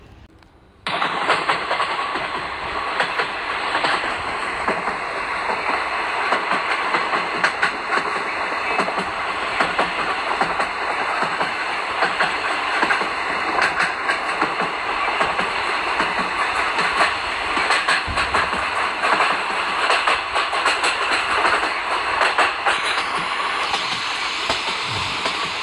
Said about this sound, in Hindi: ट्रेन सुरंगों से गुजरती है, मोड़ों पर झुकती है और नीचे झरनों की धाराएं नजर आती है।